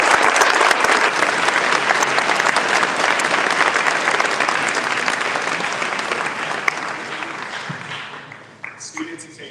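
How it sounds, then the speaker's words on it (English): A crowd at a school awards ceremony claps for honors students, loud sustained applause that slowly fades over about nine seconds, with a few scattered claps and brief murmurs of voices as it dies away. "A round of applause for our honors."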